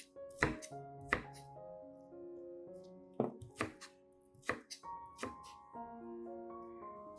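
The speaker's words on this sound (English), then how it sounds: "After finely chopping the onions," Onions are finely chopped with a knife on a cutting board, a series of sharp, close, separated chops at an uneven pace with a low tonal background hum between strikes.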